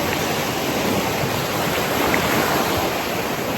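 Stormy sea waves break on a sandy beach in Valencia, making a dense, steady roar of surf that stays loud and unbroken throughout with no voices.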